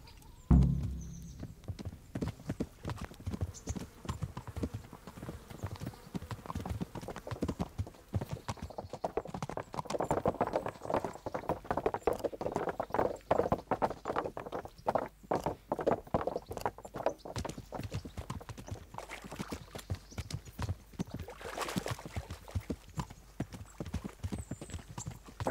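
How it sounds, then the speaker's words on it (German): A horse's hooves clip-clopping in steady walking rhythm as the rider travels in the medieval game Kingdom Come Deliverance, with a faint whinny at the start and some quiet background ambience. "Wir dürfen wieder etwas reiten."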